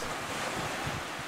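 Surf rolling onto the seafront at Placencia, Belize, a steady broadband wash of waves mixed with wind noise on the microphone, continuous and moderately loud with no voices.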